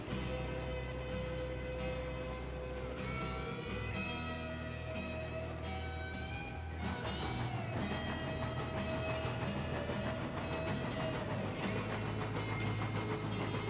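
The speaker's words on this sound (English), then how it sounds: "Alright, I think we're gonna put this train down the first" Train rolling on rails in the railway game Railroads Online, a steady loud rumble with metallic squeals and a low engine drone running throughout, with no talking.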